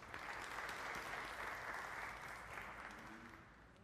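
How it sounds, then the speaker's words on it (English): Brief burst of applause from employees at a Citizens Bank all-associates meeting, a dense, fairly faint wash of clapping that tapers off slightly toward the end. "give yourselves a round of applause really quickly"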